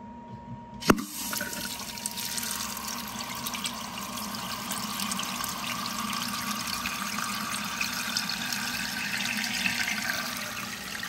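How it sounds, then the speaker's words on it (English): Jacob Delafon Fleur toilet tank filling for the first time after a sharp click as the supply opens, then a steady hiss and rush of water running into the cistern at moderate level. "I'm gonna turn on the water now, and this is gonna fill up for the very first time."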